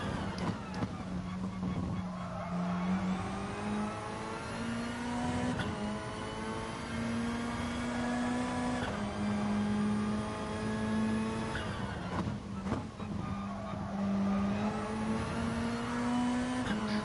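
A GT3-class race car in a racing video game at Alsace, its engine note holding a steady harmonic drone that swells and dips with throttle through corners, with faint tyre noise on worn tyres; no talking over it.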